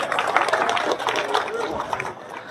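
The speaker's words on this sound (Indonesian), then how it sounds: "Iya, tepuk tangan dulu." Crowd applause during a religious lecture by a habib, a brief steady burst of clapping mixed with crowd chatter throughout.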